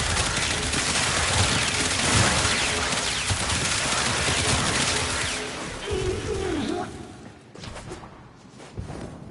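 Incarnon Furis sidearm firing in Warframe, a rapid, dense stream of gunfire for about six seconds, then tapering off into scattered impacts, whooshes and quieter movement sounds.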